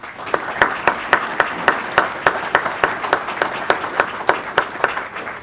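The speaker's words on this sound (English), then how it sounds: "Let's applaud them for being here." A small audience at a Hilton bombing memorial applauds the victim's family with slow, evenly spaced claps, each hit standing out crisply and fairly close, a steady rhythm of about three per second.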